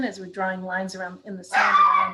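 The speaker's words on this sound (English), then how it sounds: "sorry about my dogs" Dogs bark and yip in the background during an online housing-plan forum, short bursts overlapping a person speaking and growing louder near the end.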